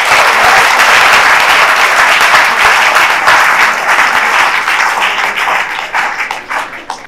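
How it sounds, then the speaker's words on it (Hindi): Juniors give their seniors a round of applause at a student app presentation: loud, dense clapping from a room of hands, steady at first and then thinning and fading toward the end. "ऑल जूनियर्स एक बार अपने सीनियर्स के ताली बजाओ।"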